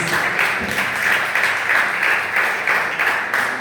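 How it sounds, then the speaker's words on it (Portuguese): A church congregation gives a joyful round of applause for Jesus, dense clapping from many people filling the room, loud and sustained with a gently pulsing rhythm. "Dá uma salva de palmas bem alegre para Jesus."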